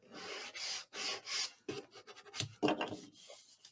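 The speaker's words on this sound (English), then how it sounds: "Let's burnish that on." A quiet, close series of rasping rubs, steady at first and then choppier, comes as paper is pressed and burnished onto a folio craft project.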